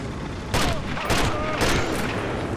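Several sharp gunshots in the game Sniper Elite crack in quick succession, loud and close, over a steady background hum with faint voices.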